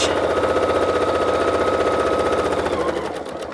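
A Janome sewing machine runs a back stitch, its needle hammering in a fast even rhythm, close and loud for about three seconds before slowing and stopping.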